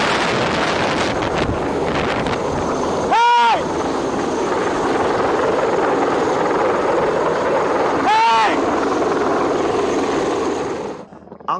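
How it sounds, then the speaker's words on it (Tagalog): A low-flying Chinese Navy helicopter roars loudly and steadily, with heavy wind buffeting the microphone throughout and two brief whooshing sweeps as it passes. "matinding hangin dulot ng delikado at sobrang babang paglipad ng Chinese Navy helicopter na nagtagal ng 10 minuto"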